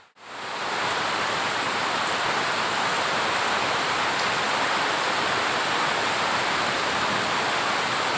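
Steady, dense rain pours down continuously, a loud even hiss with no voices.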